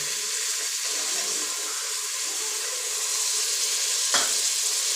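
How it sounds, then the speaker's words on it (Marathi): Broad bean seeds and potato pieces hit a hot pan and sizzle loudly, a steady close frying hiss with one brief sharper splash near the end and no talk. "वटाणे वगैरे नाही वाटाणे सॉऱ्या फरशीचे दाणे आणि बटाटा हा टाकून देते"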